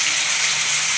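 Water pouring and sizzling into a hot pan of fried potatoes with onion-ginger paste and spices, a steady loud hiss and gush lasting the whole second with no talking.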